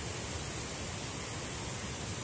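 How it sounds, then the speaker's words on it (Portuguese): A river rushing along an ecological trail toward Cachoeira da Fumaça waterfall in Cascata, Rio de Janeiro, heard as a steady, soft broadband wash of water with no talking. "Esse barulho aí já é o barulho do rio"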